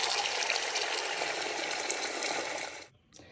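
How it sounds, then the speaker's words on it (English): Water gushes steadily from a tap into a pot of chicken bones, bay leaves, salt, peppercorns and apple cider vinegar for bone broth, a close continuous pour that stops abruptly near the end. "We'll fill it with water"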